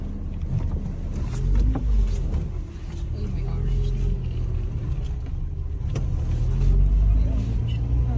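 A car engine pulls away in first gear during a driving lesson in Australia, a low rumbling drone that swells slightly as it accelerates, heard under people talking inside the car.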